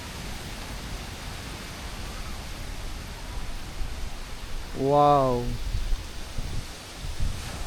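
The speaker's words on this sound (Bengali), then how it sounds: "দেখুন কি পরিমাণ বাতাস বইতেছে" Strong wind sweeps across golden paddy fields in a village just before rain, a steady broadband rush with rustling, while a voice briefly exclaims partway through.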